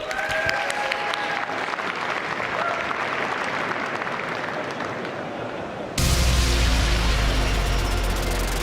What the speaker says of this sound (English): let's give a huge round of applause for our next guests, Romain and Vince.